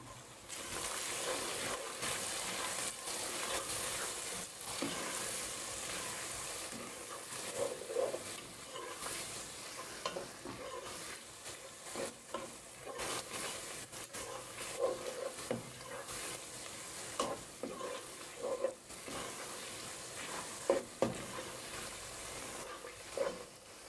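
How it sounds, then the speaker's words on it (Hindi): Spices fry and sizzle in a pan on a low flame for spicy masala chicken biryani, with a soft steady crackle and intermittent scraping as they are stirred, fairly quiet and without talk. "अब इसमें सारे मसाले डाल देंगे।"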